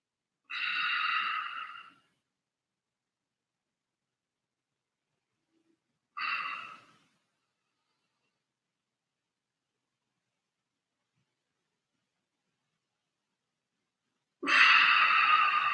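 Three slow, audible breaths taken during a morning mobility exercise, close and clear, separated by long silent gaps, with the last breath the longest and loudest.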